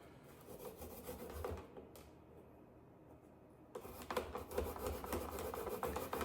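Fresh ginger is grated by hand, producing soft rhythmic rasping strokes close by, pausing briefly in the middle before resuming more vigorously.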